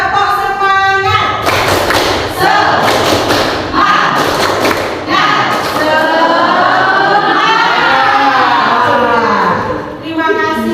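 A group performs a rhythmic spirit clap (tepuk semangat) together, loud patterned claps and thumps in quick sequences, with children's voices chanting and calling along between and over the beats.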